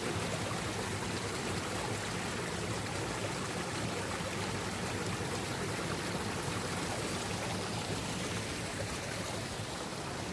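A small waterfall stream tumbles beside the Cornish coast path between Portreath and Porthtowan, just before it drops off a cliff; a steady, even rushing wash of water fills the whole stretch with no talking.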